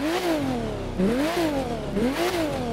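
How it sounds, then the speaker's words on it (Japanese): A red Porsche 911 Speedster (991) engine in The Crew 2 revs repeatedly, rising and falling in three rhythmic swells, loud and close with a steady underlying exhaust rumble and no talk. "ではね、ちょっとエンジンかけてみたいと思います。"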